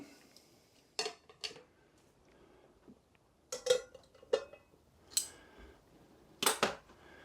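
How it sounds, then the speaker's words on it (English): Several sharp metallic clanks and scrapes as a frying pan is set down and shifted on a Trangia 27 camping stove, spaced irregularly against a quiet background. "let's get the frying pan on"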